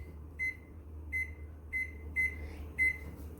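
Kitchen oven timer being set, giving five short, sharp electronic beeps in an uneven rhythm over a steady low appliance hum.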